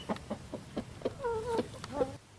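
Hens on a small hobby farm clucking in short repeated bursts, with a longer drawn-out cackle midway, fairly close and clear over a low outdoor background.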